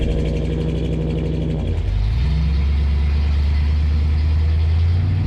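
A Chevy squarebody pickup truck on new aluminum wheels pulls away and drives, its engine droning loud and close, briefly dropping pitch at a gear change before settling into a steady cruising hum.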